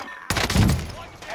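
Gunfire in the Call of Duty Warzone video game, a burst of loud, close shots breaking in after a brief quiet lead-in, then trailing off into busy game noise.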